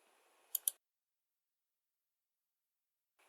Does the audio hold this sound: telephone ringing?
no